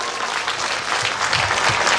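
Audience applause at the Dehal Kachirdom Utsav festival, a dense, steady wash of many hands clapping throughout, with a faint murmur of the crowd underneath.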